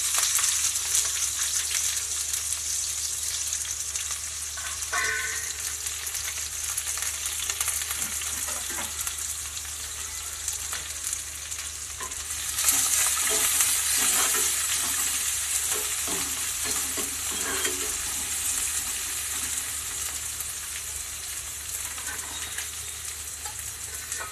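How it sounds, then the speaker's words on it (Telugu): Green chillies and chopped onions sizzling in hot oil for a Telugu fish curry, a steady close hiss with occasional stirring scrapes that swells louder midway, no voices. "ఇప్పుడు పచ్చిమిరపకాయలు ఉల్లిపాయలు కట్ చేసి పెట్టి వేసుకుంటాము"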